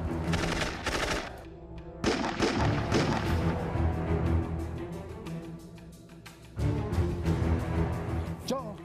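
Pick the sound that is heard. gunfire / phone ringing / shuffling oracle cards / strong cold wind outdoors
gunfire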